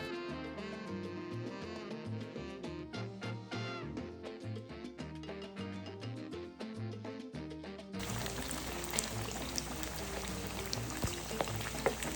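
Chicharrón dropped back into hot oil at 375 to 400 degrees sets off a sudden, steady bubbling sizzle with crackles and pops. It follows several seconds of music and stays close and continuous.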